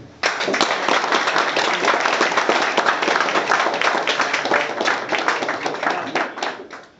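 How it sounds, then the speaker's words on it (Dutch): Audience at a windmill shop giving a big round of applause, a dense burst of clapping that starts sharply, stays loud and steady for several seconds, then thins out and fades. "ik denk dat we toch een groot applaus mogen geven voor"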